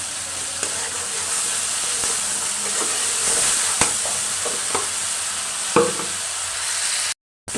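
Potatoes being stir-fried in a pan of spiced oil: a continuous close sizzle broken by several sharp clacks and scrapes of the stirring utensil, with no talking.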